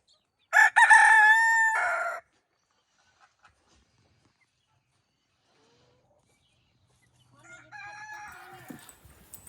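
A pet chicken crows loudly and close, then falls quiet for several seconds before a softer, rougher crow with clucking follows near the end.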